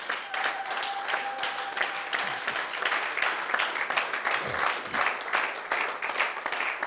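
A church congregation applauds and cheers, a continuous, fairly loud mass of clapping that holds steady throughout with a few voices mixed in.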